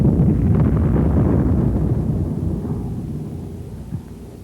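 An 81 mm mortar high explosive shell with a delay action fuse detonating, a heavy low rumbling blast that rolls on and slowly fades into a distant boom.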